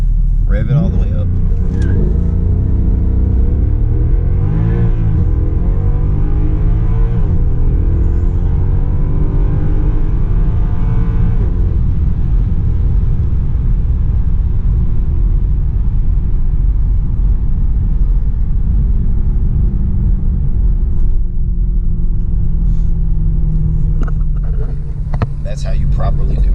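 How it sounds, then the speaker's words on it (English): A Mercedes C63 W204 V8 engine rumbles loud and close while held for a launch-control race start, a deep sustained drone that climbs and swells in pitch, with someone talking over it. "confirm up paddle, rev it all the way up"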